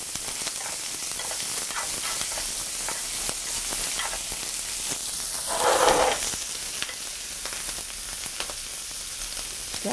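Garlic sizzles in oil in a pan over lowered heat, a steady close crackling hiss that swells briefly louder midway before settling back to an even fry.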